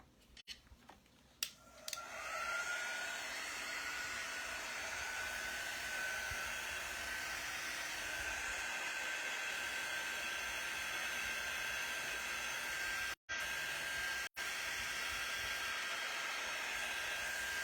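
A hair dryer blows over wax after a few handling clicks, its loud, steady whirring hum running nearly continuously and cutting out twice briefly near the end.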